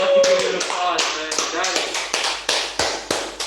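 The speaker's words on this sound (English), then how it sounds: "You have to give it applause, man." Light applause and claps from a small group in a school's on-site podcast room, with voices talking over the sharp, uneven taps throughout.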